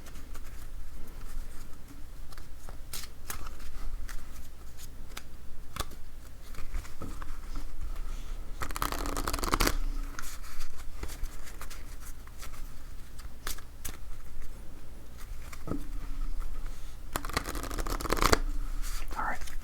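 Playing cards are dealt and shuffled for a Baker's Dozen solitaire game, soft close-up snaps and slides with a couple of longer riffling bursts, quiet and intimate, with low talk at times.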